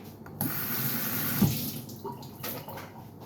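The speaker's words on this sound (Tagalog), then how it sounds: "Hugas po tayo ng kamay." Water runs steadily from a tap with soft splashing and shifting flow, as if hands move under the stream.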